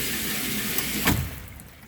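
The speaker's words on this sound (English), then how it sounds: "there you can see it kicking that water out when that solenoid valve closes" Relief valve on a water line spitting water when a solenoid valve closes and causes water hammer, a brief hissy splash burst standing out against steady running-water noise.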